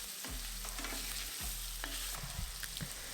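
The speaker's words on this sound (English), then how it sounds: "If your sausages stick like this, break them up and separate them, then stir it around to brown them all over." Sausage pieces fry in a pan with a steady close sizzle while a spoon repeatedly scrapes and stirs them. Brief knocks and clinks come from the pan.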